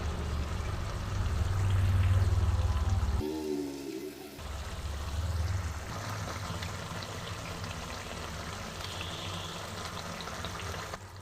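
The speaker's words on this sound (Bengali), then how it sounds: "এবার মশলাটা ভালো মতন কষা হোক" Spice paste mixed with yogurt fries in oil for barista chicken, giving a steady, close sizzle throughout with a brief quieter break early on, as if from stirring.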